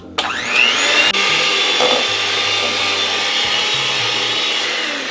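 Loud and close, a kitchen blender starts up and runs steadily, whipping salted butter with garlic and harissa into a foam, its motor a sustained high whine with a brief knock about a second in.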